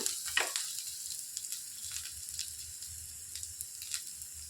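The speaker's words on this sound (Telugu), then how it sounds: "కొద్దిగా కరివేపాకు వేసుకొని వేయించుకోవాలి" Curry leaves fry in hot oil in a pan for a capsicum masala gravy, making a soft, crackling sizzle with a sharp spatter when they first go in, then quieter pops over a low steady hiss.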